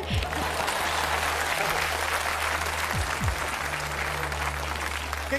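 Applause from the audience at a Vietnamese comedy stage show, a steady bed of clapping throughout with a few faint tonal sounds mixed in and no clear talking.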